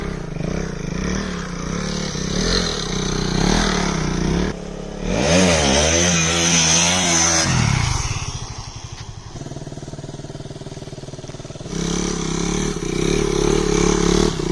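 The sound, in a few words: modified KTM Duke 200 stunt motorcycle engine running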